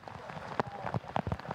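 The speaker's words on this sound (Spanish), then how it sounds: "No cesa la lluvia" Heavy rain falling on a football stadium during a women's match at Monumental de Villa Lynch, heard as a dense, irregular patter with scattered sharper drops, moderately loud and close.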